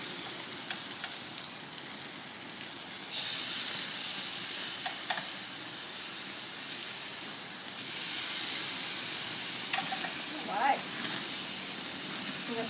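Bacon-wrapped chicken thighs sizzle on a lit grill, a steady, fairly soft hiss that grows slightly louder as more pieces go on, with faint clinks and no clear talk.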